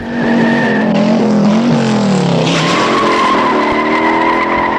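A car drifts hard through a movie car chase, tires squealing loudly and continuously over a roaring engine, the pitch sliding as it slews across the road.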